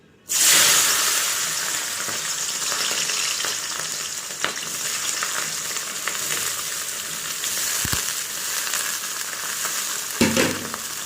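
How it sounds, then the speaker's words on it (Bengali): Carrots and beans dropped into hot oil burst into a loud, sudden sizzle that settles into a steady crackling fry, with occasional stirring scrapes and a brief knock near the end. "তেলটা গরম করে নিয়েছি আর এই গাজর আর বিনসটাকে ভেজে নিচ্ছি"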